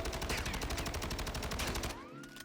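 Rapid automatic gunfire from a test weapon in the video game Warzone 2, a loud sustained burst of evenly spaced shots lasting about two seconds, then a brief ringing tail as the firing stops.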